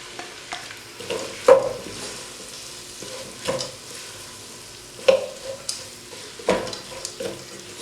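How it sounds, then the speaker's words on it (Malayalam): Sliced onions sautéing in hot oil for a tapioca and beef biryani masala, with a rhythmic spoon stirring and scraping through a steady, close sizzle. "അതിലേക്ക് നമ്മൾ എടുത്തു വെച്ചിരിക്കുന്ന സവോള ഇട്ട് കൊടുക്കാം."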